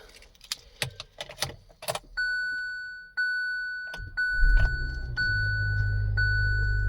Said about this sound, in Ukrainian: Давайте спробуємо завести автомобіль.